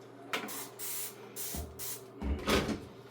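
Dawn Powerwash cleaner sprayed inside a washing machine, several short hissing trigger-spray bursts in an irregular rhythm, close and clear with no talk.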